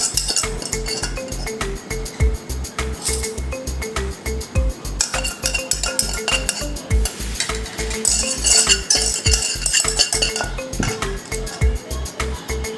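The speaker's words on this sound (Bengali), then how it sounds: "এখন আমি এটা সুন্দর করে একটু মিশিয়ে নিব" A lentil and egg mixture stirred in a pan, with rapid rhythmic scraping and clinking of a metal spoon against the pan over a soft sizzle, sustained and close throughout.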